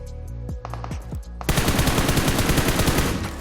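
Gunfire in the PUBG Mobile Erangel map during squad play: a few separate shots, then a loud, dense, rapid burst of automatic fire lasting about two seconds, close and sharp.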